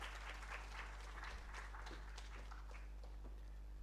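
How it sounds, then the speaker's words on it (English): Audience applause at an interventional pain management course, a steady wash of clapping from a seated crowd lasting throughout, with no voices over it. "Another round of applause, please."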